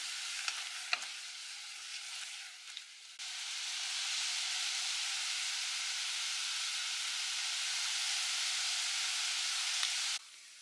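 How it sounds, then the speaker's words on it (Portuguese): Onion frying in a pan with a pinch of salt, a steady loud sizzle that swells after a few seconds of lighter crackling and scraping, then holds evenly until it cuts off. "Um pouquinho de sal para ajudar a dourar a cebola."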